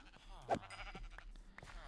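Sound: sheep bleating in the video game Minecraft

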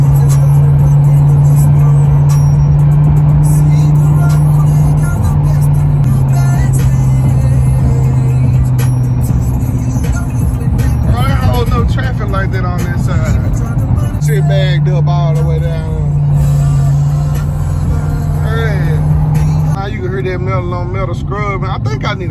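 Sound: car pulling up

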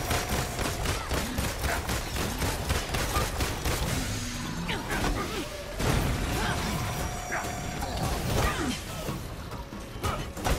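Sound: pistol gunfire in video game Marvel's Avengers

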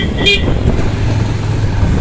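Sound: heavy road traffic with horns

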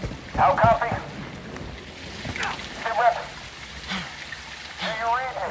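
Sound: heavy rain in the video game Call of Duty Modern Warfare 2

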